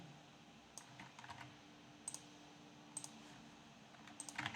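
Keys clatter on a computer keyboard during Flask API coding work: sparse, faint clicks in short bursts over a quiet room hum, with no voices.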